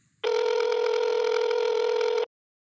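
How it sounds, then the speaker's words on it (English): A single steady electronic ringback tone on an outgoing call sounds for about two seconds, loud and close, then cuts off into silence. "Okay, it's ringing"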